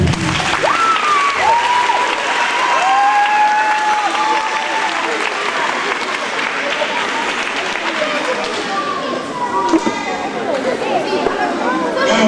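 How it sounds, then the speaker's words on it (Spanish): A crowd applauds loudly and continuously for first-grade primary school dancers at a school carnival. Clapping holds steady for the whole stretch, with cheers and voices mixed in. "Un aplauso para eles."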